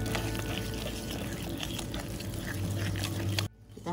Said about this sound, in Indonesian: Ini kita aduk aja sampai lembut. Dia kalau pakai whisker gini ya, menggumpal